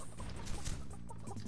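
A chicken clucking in the video game Realm Royale, short clucks heard close up over a dense, noisy game soundscape.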